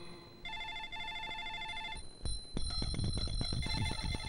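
A telephone rings in a Hindi drama scene, two bursts of electronic trilling ring followed by a sharp click and a clatter of busy movement and bell-like tones.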